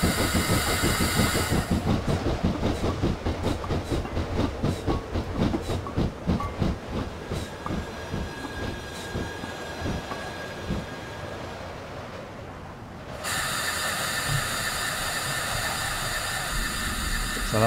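A Fowler 4F steam locomotive in the Train Simulator 2016 video game slows under braking, with rhythmic wheel clicks over rail joints that gradually space out, then a steady hiss near the end.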